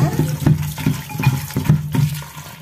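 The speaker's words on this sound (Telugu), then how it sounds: "శుభ్రం కడిగేసుకుందాం. పైప్ కింద" Fish heads rinsed under a running kitchen tap: a steady splashing stream with rhythmic surges about every half second as the pieces are turned under the flow, close and fairly loud, with no talking.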